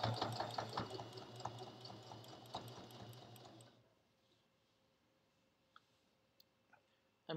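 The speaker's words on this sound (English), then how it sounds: "Sewing through a lot of thicknesses of fabric." A sewing machine stitches steadily through many layers of thick fabric for a bowl cozy, a close whirring hum with rapid needle clicks that stops midway, followed by quiet and a few faint clicks.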